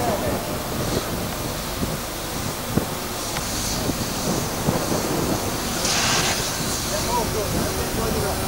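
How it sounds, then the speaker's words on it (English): Strong wind buffets a handheld camera microphone on a blustery day at the Cleethorpes coast, a constant rumbling roar with occasional gust peaks, and speech is partly buried under it. "I'm trying to hold the camera still with the wind blowing against you."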